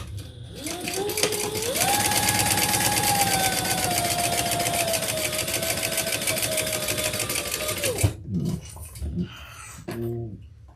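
A sewing machine stitching a fabric handbag runs in one long steady burst with a droning motor hum and rapid needle chatter, then stops and gives a few short follow-up bursts and clicks.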